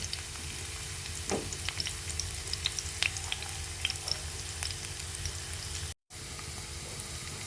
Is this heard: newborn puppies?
no